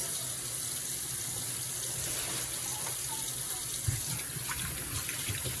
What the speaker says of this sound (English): So right now, we have the beef chunks in some water. We're gonna rinse these a couple of times.